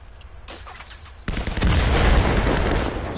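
Grenade blasts in a first-person shooter game: a sharp crack followed by a heavy, rumbling explosion that swells and lingers, loud and close, with no talking.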